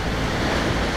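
Ocean surf rolls in at the shore as a loud, continuous wash of broadband noise, with wind buffeting the microphone and no voices.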